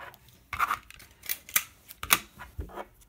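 Tape is pulled off a roll in several short, sharp ripping bursts and pressed onto small DC motors wired to a battery, close by and with no talking.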